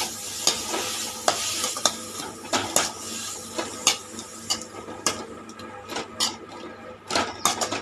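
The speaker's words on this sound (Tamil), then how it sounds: "பீட்ரூட் போட்டுக்கலாங்க. நல்லா வதக்கிக்கலாம்." Beetroot and tamarind sautéing in a pan, with a spoon scraping and stirring in repeated sharp strokes over a soft, steady sizzle, close by and with no talking.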